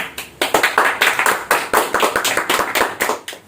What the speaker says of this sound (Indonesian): Oke, tepuk tangan dulu guys.